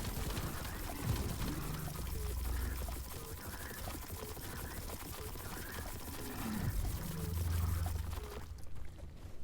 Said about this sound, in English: Foaming up the area.